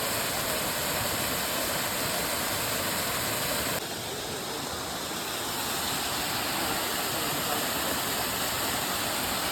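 Waterfall near Kutralam on the Kerala border, a constant dense hiss of falling water, loud and steady, with no talk.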